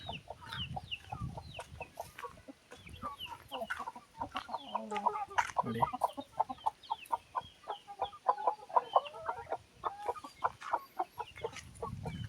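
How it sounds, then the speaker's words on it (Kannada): Free-ranging native country chickens on a farm near Tumkur cluck in quick, close bursts, several birds overlapping in a busy rhythmic chatter, with someone briefly speaking. "ಪ್ಯೂರ್ ನಾಟಿ ಕೋಳಿ ಸಿಗುತ್ತೆ"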